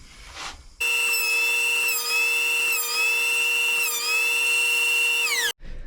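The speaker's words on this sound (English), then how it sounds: "that was just a bit of skip planing. So real light passes, alternating sides, get it taken down nice and level." A planer takes a light skip-planing pass on a wood blank for a turned bowl, a loud steady high-pitched machine whine for several seconds with slight pitch dips as the board feeds through, then stopping abruptly.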